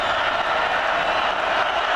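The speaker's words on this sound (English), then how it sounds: "Crowd is geeked." Dense, roaring crowd noise fills a football stadium during a 2009 college game between Colorado and Kansas, a steady loud wash of cheering with no breaks.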